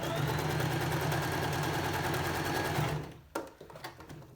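A sewing machine stitches in reverse along a fabric face covering with elastic, giving a loud, fast, steady mechanical whir. It stops after about three seconds, and a few soft handling clicks and rustles follow.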